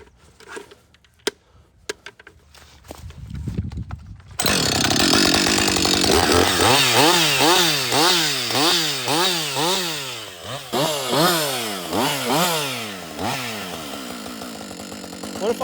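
ECHO CS 620P or Husqvarna 562XP chainsaw felling small timber. Faint knocks come first, then a loud, close engine roar with repeated rising and falling revs as the bar bites in and eases off.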